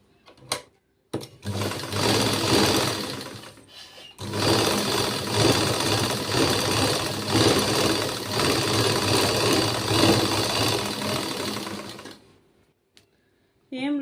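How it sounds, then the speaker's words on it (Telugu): A sewing machine stitches a lined blouse in long, steady runs of fast, close mechanical whirring, broken by short stops at the start and near the end. "ఇప్పుడు బ్లౌజ్ అయితే స్టిచ్చింగ్ చేసేసుకుందాం."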